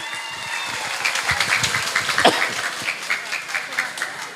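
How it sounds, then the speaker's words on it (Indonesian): Applause from a crowd, a steady wash of clapping with scattered louder claps, moderately loud and continuous throughout. "Tepuk tangan."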